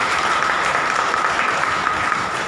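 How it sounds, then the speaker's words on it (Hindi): Congregation at Badussa Zion Church clapping hands together in thanks during worship, a dense, steady wash of applause filling the room throughout. "ताली बजा के प्रभु का धन्यवाद करें।"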